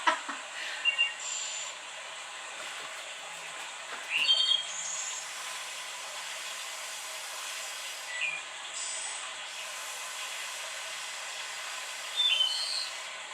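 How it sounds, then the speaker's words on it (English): Faint bird chirps and tweets come through intermittently over a steady hiss of background noise, distant and sparse. "The birds sound happy today."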